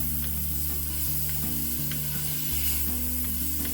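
Onions sizzle and fry in rendered sausage fat in a pan while being stirred around, a close, steady crackling hiss with light scraping throughout and no voices.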